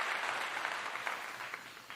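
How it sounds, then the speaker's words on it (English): A studio audience on a talk show gives a brief round of applause, a soft, fairly distant wash of many hands that slowly fades. "Let's just clap it up real quick for the one"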